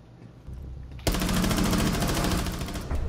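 Rapid automatic gunfire in a Rainbow Six Siege match bursts in loud and dense after a quieter opening, keeping up a continuous rattling stream of shots to the end.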